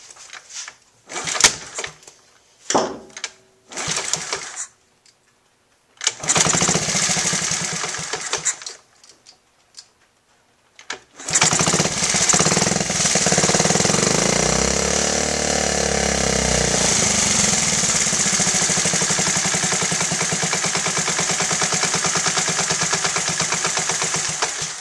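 A Honda Z50A motorcycle engine revs in short bursts after a carburetor pilot adjustment. It blips and cuts out several times, then settles into a sustained buzzing rev that rises and falls. It is loud and close.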